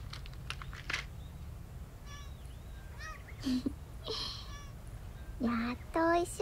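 Several cats meow at a feeding spot on a cat island, with quick, close cries in short bursts over a low, steady background hum, growing louder toward the end.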